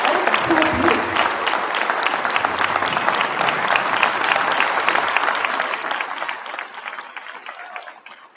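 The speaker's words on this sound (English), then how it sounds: "Give them another round of applause." A concert band audience applauds warmly in a hall, dense sustained clapping that holds steady for several seconds before thinning and fading out near the end.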